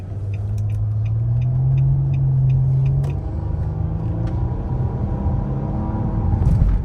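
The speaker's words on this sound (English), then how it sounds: "that CVT, it doesn't sound good." Cabin drone of a 2020 Nissan Maxima SL with a CVT under acceleration, a steady low engine hum that swells and eases as revs change, loud and continuous with no talk.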